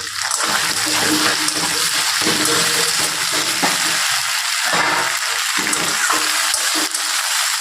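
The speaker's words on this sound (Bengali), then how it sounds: "সমস্ত উপকরণ খুব ভালোভাবে আমি কষিয়ে নেব।" Tomatoes and spices are sautéed for a fish egg curry in a loud, continuous close-up sizzle, with occasional stirring scrapes beneath the hiss.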